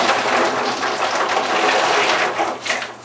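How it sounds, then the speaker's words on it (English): Kukui nuts, some freshly fallen from the tree, are tossed into water while inamona is being made, giving a steady splashing, gushing wash with no talking. "So what I'm going to do is I'm going to throw it in the water real quick."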